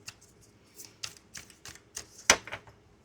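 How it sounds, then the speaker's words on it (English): Tarot cards are shuffled by hand in a quiet room, giving a series of crisp slaps and riffles, close and fairly soft, about a dozen irregular taps over a few seconds. "I got a shuffle in between. We must do the shuffle."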